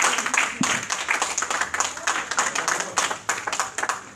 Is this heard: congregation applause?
yes